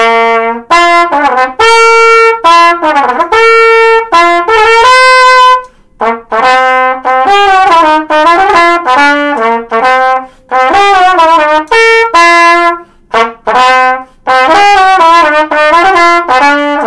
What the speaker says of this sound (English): Here is the trumpet.